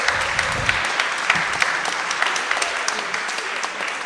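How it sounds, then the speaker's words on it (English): An audience at a housing justice event applauds, a dense, steady burst of clapping filling the room with sharp individual claps poking through, lasting the whole few seconds. "we should all give a big round of applause"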